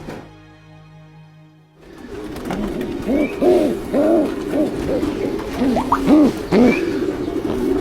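Pigeons coo in a loft of breeding racing birds, a run of soft, low, rounded coos repeating close by and fairly loud after a brief quiet start, with no talking over them.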